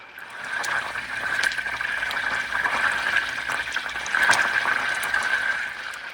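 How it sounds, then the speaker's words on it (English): Butter browning in a pan gives a steady, fizzy sizzle with dense crackling bubbles as its water boils off, close and continuous with brief louder pops. "We are entering into phase 2, which is the noisy and bubbly phase."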